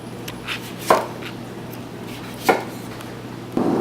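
A kitchen knife slices lemons in half, with a few sharp, separate cuts against a board spaced out over a few seconds and near at hand in a quiet room.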